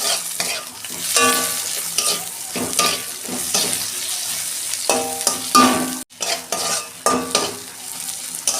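Onions frying in a pan with salt crackle and hiss nearby, broken by repeated stirring and scraping strokes, and music plays faintly underneath.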